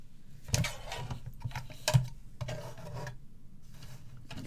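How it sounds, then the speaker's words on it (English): Paper is trimmed for a small stamped card sentiment: quiet, close rasping cuts, with sharp strokes near the start and middle and softer scraping between, and no voices. "I need to trim out my little sentiment."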